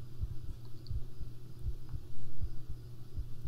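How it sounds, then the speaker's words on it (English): A heartbeat heard with the ear against a chest, a soft steady thump repeating about every half second under a low hum, close and quiet, no talking. "How about laying your head close to my chest? And just listening to my heartbeat?"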